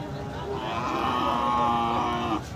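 A bull gives a long, drawn-out moo close by at a cattle market in Thakurgaon, with faint crowd murmur in the background.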